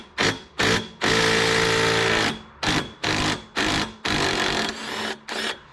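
An impact drill drives bolts on a 2021 Can-Am Renegade 1000 XMR in repeated loud bursts: short rattling pulses, one long sustained run, then several more quick hits separated by brief pauses.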